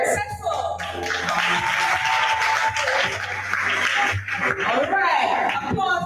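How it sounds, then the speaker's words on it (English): At a university research day event, an audience gives applause for a speaker being called up, a sustained round of clapping with voices talking over it throughout. "Applause for Cecil."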